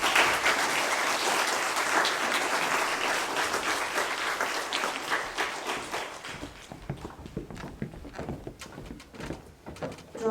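Audience clapping at a Grade 4 school prize-giving ceremony in 2021, a dense, steady round of applause that thins out and becomes more scattered toward the end.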